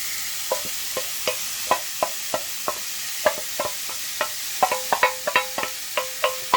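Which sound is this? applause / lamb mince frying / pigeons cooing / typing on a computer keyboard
lamb mince frying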